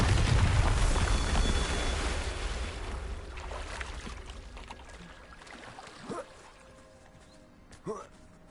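Bombarda blasting spell explosion in Hogwarts Legacy: a loud booming blast at the start that rumbles and fades over several seconds, followed by two smaller sharp impacts later on.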